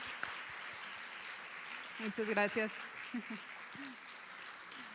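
Soft, distant audience applause fills a Spanish-language book presentation, a steady wash of clapping under a man's brief spoken thanks.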